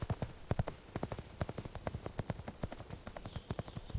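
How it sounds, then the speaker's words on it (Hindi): Steady clip-clop of a horse's hooves as a rider departs in an animated story, with a brisk, regular rhythm of close, crisp hoof strikes throughout and no speech. "और घोड़े पर बैठकर प्रतापगढ़ की ओर निकल गया"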